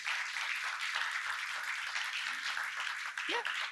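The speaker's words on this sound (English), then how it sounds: "Warm applause." An audience at the Hamburg Sustainability Conference applauds a panel speaker, the State Secretary, coming on stage: a continuous, moderately distant ripple of clapping, with a speaking voice faintly over it.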